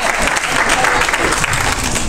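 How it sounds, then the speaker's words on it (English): Church congregation clapping hands during a sermon, a continuous loud burst of many hands with crowd noise mixed in. "Y'all better clap your hands for Friday night."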